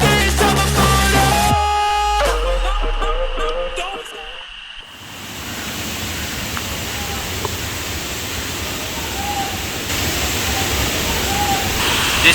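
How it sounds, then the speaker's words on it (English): A waterfall in Verna, Goa gives a steady, broad rush of falling water that fills the whole clip, starting after a few seconds of loud music. "This is another waterfall here."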